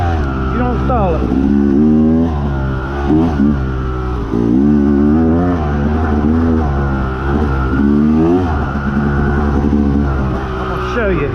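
A motorcycle engine with a recluse clutch revs hard during a ride, rising and falling repeatedly through gears in close, loud, rhythmic surges, with a rider's voice faintly underneath.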